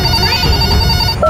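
A toy banana phone rings with a bright electronic ringtone, a short repeating trill that runs loud and close, ending in a higher tone.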